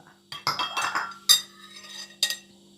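A spoon stirs roasted shallots into a pork crackling chili paste, giving several sharp, close metallic clinks and scrapes in irregular bursts over a low steady hum.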